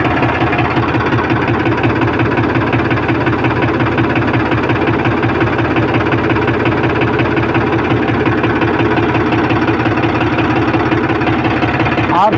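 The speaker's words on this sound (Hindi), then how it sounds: "हम ट्रैक्टर को स्टार्ट करके आप लोग को दिखाते हैं इसका कंडीशन" A Powertrac tractor engine idles at a steady, even rumble with a dense, throbbing mechanical texture that stays loud and unchanged for the whole stretch, with no pauses.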